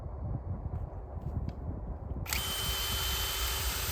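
A power auger bores into soil to set a CropX V4 soil sensor, its steady motor whine starting abruptly partway through and holding loud and close after a stretch of low rumbling background.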